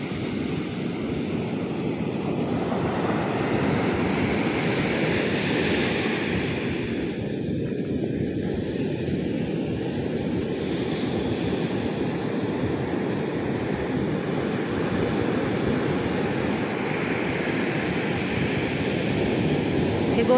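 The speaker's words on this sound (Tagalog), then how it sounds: "Lumalaki na naman yung tubig, tumataas na naman" Seawater surges along the shore at Bucana after Typhoon Uwan, a continuous heavy roar of surf mixed with wind buffeting the microphone, steady and loud throughout.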